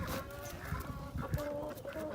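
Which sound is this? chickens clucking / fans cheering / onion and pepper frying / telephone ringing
chickens clucking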